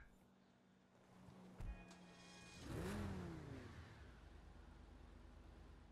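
A car engine in GTA 5 Online on Xbox One starts up and revs, a brief rising whine swelling then settling into a steady low idle rumble, faint and alone.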